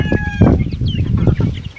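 Chickens in a backyard breeding pen cluck in close, loud, overlapping calls, with short choppy bursts and a higher drawn-out squawk near the start.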